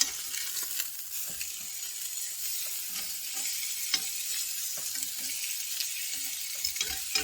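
Prime Wagyu ribeye steak sizzles steadily in a hot pan just after being flipped, a continuous close crackle with small pops scattered throughout and no voices.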